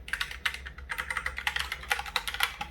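Typing on a Logitech Pop Keys mechanical keyboard, with irregular two-finger keystrokes clacking close and clear, each press a sharp click with a low hum beneath.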